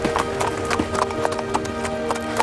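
Hooves of horses pulling carriages clip-clop steadily and fairly close over a constant rumbling wheel and road noise, with a faint tonal hum underneath and no talk.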